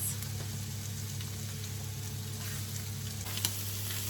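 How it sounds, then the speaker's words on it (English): Leftover cabbage and mince stir-frying in a pan, a steady close sizzle with a constant low hum beneath and a few faint clinks near the end. "over here I've got the leftover cabbage and mince, and I'm just stir frying all that"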